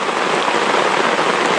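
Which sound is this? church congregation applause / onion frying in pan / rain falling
rain falling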